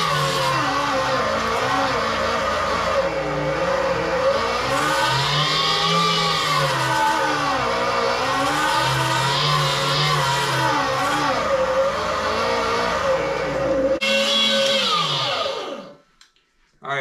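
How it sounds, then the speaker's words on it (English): Grinder running loudly at half power while grinding beaver castor for trapping lure, a steady dense whine with wavering pitch throughout, then cutting off near the end. "I apologize in advance for the loud noise you're gonna hear with this grinder running"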